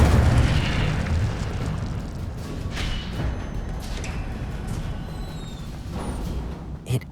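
Incendio fire spell going off in Hogwarts Legacy: a heavy, roaring burst of flame and booming low rumble that holds for several seconds, close and loud, easing slightly toward the end with a small pop.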